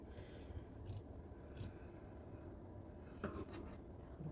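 Scissors snip into the seam allowance of a wool work-jacket collar, giving a few faint, quick cuts against a quiet room.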